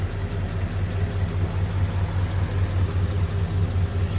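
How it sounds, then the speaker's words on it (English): A 1939 Ford Model 85 pickup with a single carburetor and a 6-volt system idles smoothly and quietly, a steady low rumble heard up close without any talking. "Love these things when they're just purring. Nice quiet idle."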